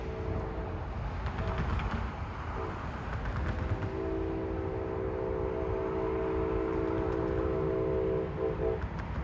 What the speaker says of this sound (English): you can hear 2738 honking into Bayshore